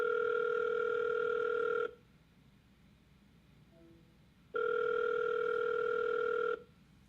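A phone line rings during a cold call, giving two long, steady electronic ring tones separated by a silent pause, clear and close on a quiet line.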